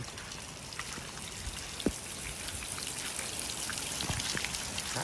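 Steady rain falls over a village, a soft even patter with scattered individual drops landing nearby on surfaces, fairly faint and with no voices.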